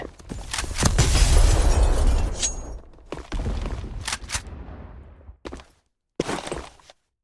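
A grenade detonates in a video game, a loud booming blast with rumbling decay, followed by scattered sharp impacts and bursts of gunfire-like cracks separated by short silences.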